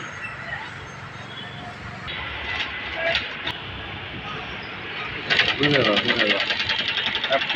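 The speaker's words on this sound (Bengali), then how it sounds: "সেলাই করে নেওয়ার কাজ চলতেছে" A sewing machine stitches a Toyota X Corolla seat cover with a steady mechanical whir. It quickens into a louder, rapid rattling run near the end, with a voice also present.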